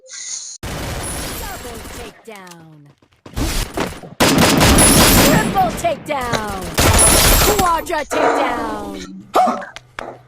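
Rapid bursts of gunfire from the mobile game Free Fire, loud and close, with bursts broken by short gaps. Heavy game sound effects and voices run through much of it.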